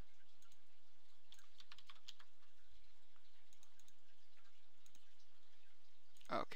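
Computer keyboard typing and clicks while working in Blender, sparse, light keystrokes close by and fairly quiet, with one louder sharp click at the end.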